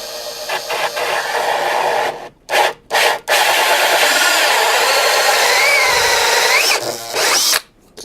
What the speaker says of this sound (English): good old electric drill for this.